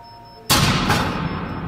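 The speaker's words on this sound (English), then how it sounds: "clunking noise you hear is the sound of the control rods being removed out of the." Nuclear reactor control rods being withdrawn give a sudden heavy mechanical clunk followed by a loud sustained rumbling clatter, with a second jolt a moment later, over a quiet hum.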